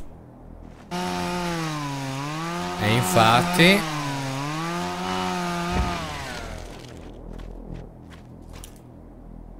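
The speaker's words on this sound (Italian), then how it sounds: "Solo che mi dispiace utilizzare la motosega" A chainsaw revs in the horror video game Obscure II: a loud, buzzing engine drone that rises and dips in pitch, surges with a harsh burst midway, then cuts off, leaving faint clicks afterward.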